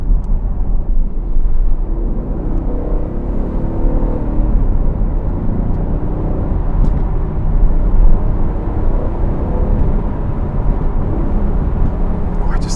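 A 503 hp rear-wheel-drive Aston Martin drives in track mode on wintry roads, its engine a steady loud low rumble with road roar throughout and no clear gear changes.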